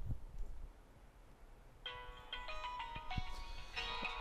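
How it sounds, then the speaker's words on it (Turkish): A smartphone ringtone plays for a WhatsApp verification call, a melodic electronic chime repeating in short bursts after a quiet start, moderately close with faint room noise. "Şimdi telefon çalacak."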